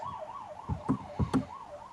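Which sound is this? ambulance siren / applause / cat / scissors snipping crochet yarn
ambulance siren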